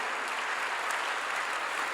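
A church congregation claps together during a Korean sermon, a dense, steady wash of applause from many hands filling the room throughout.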